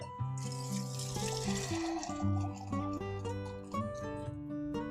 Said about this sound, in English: I think I'm going to add a little bit more water.